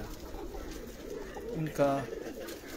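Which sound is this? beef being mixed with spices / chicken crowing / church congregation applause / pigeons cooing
pigeons cooing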